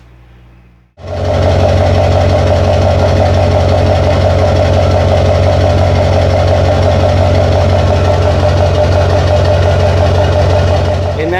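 A Duramax LB7 diesel pickup, a pull truck with 60% over injectors and a 10 mm pump, starts up and then runs at a steady, loud idle with a deep rumble and diesel clatter.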